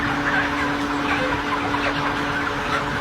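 Dense flock of chickens crowded in an intensive broiler shed, birds near the end of life, a steady overlapping chorus of clucks and calls with a constant mechanical hum beneath, close and continuous throughout.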